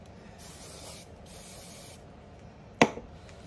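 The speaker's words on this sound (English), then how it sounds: "Spray these ends real good." A soft steady hiss of a spray bottle spraying hair product onto the ends of bleached hair runs for a few seconds, then a sharp short burst near the end.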